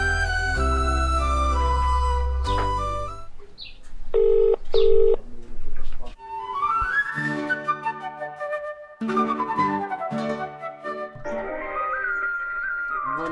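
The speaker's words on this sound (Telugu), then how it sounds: "శివానికి ఫోన్ చేస్తా" Keypad tones beep as a phone number is dialed, a short series of electronic tones in the middle amid other tonal sounds.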